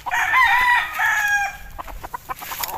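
Gamefowl stags crow on a farm, two loud drawn-out cock-a-doodle-doo calls followed by clucking and scattered farmyard noises, with no talking.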